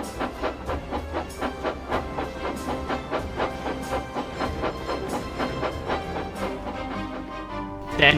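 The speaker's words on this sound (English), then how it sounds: "When Eagle arrived with his goods train" A steam-hauled goods train rolls steadily along the rails, its engine chuffing in a regular rhythm with hiss and clickety-clack of wagons, close and continuous throughout.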